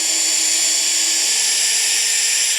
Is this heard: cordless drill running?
yes